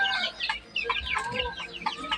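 Chickens cluck close by in a coop, a busy run of short clucks and squawks overlapping one another without any talk.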